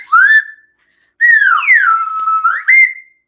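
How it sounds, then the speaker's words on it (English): A slide whistle played in rising and falling swoops, several bright gliding notes with short pauses between them, loud and close with no talk over it. "It's called a slide whistle or something"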